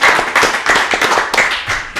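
A few people on a podcast clap their hands in short, uneven bursts, close and fairly loud, with no talk over it.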